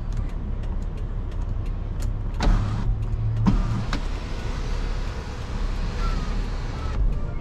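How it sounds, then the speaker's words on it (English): The power sliding sunroof of a 2012 Toyota Sienna Limited opens with a brief electric motor whir over steady cabin background noise. "Dual power sliding sunroofs"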